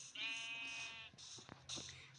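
A sheep bleats loudly and close by, a long wavering call followed by shorter bleats, with faint rustling in the background.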